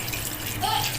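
Water is poured steadily into a pressure cooker holding chicken and lentils for shami kabab. It makes a short, continuous splashing gush.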